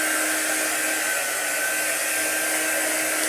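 A heat tool blows hot air in a steady, even whir with a constant hum, running close by without pause.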